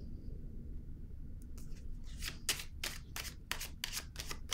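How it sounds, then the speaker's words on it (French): A tarot card is handled and laid face-down on a table, giving a run of soft, papery slaps and rustles in quick succession, close and fairly quiet against a low background hum. "Je vais déposer une carte sur la lumière"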